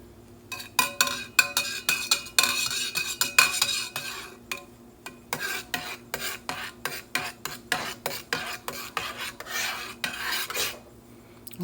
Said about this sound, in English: I mix it up a little bit more.